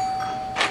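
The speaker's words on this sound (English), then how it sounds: "Did you hear that? The doorbell then." A doorbell rings once, a short bright chime standing out briefly over a quiet indoor room with a faint steady tone beneath.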